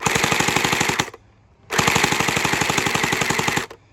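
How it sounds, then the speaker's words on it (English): Hydro Strike Pulsar Pro gel blaster fitted with a hop-up, firing gel balls in two sustained full-auto bursts of rapid, even buzzing shots, loud and close with a short pause between. "you can see how consistent those balls are shooting, and at pretty far distance"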